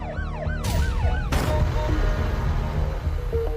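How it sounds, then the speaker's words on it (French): Police and ambulance sirens wail loudly and close at a crime scene, several overlapping rising-and-falling tones sweeping continuously, with a burst of noise near the start and engine rumble beneath throughout. "La police et les ambulances arrivent sur place."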